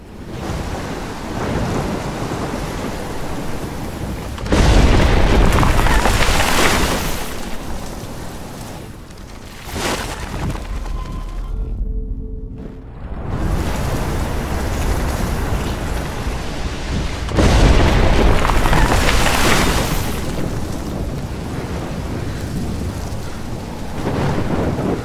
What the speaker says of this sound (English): Storm like this in Oregon.